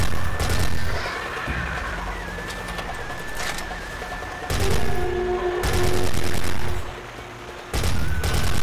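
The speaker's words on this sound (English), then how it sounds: "I'm just gonna stick with the machine gun for now" Machine gun fire in the dinosaur shooter Dino Strike, loud rapid bursts that start and stop in several long volleys, mixed with game creature calls and effects.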